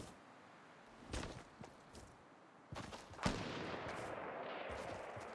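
Sniper gunshots in a video game: a few sharp cracks spaced apart, the last and loudest followed by a lingering noisy tail, against quiet background.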